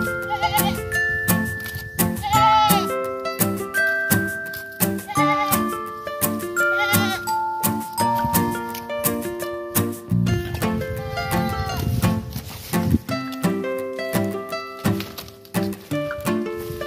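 Goats on a farm beside a cornfield bleat over and over, with several overlapping calls crowding close and loud among shuffling and rustling for the whole stretch.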